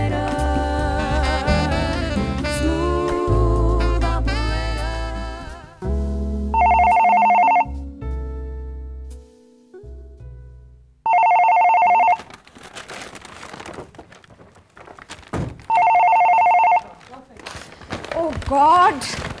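A telephone rings loudly in three separate bursts during a televised Pakistani drama scene. Music plays first and quieter background sounds fill the gaps between rings.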